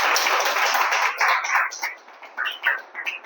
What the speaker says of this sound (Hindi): जोरदार ताली बजाकर तारीफ करें परमेश्वर की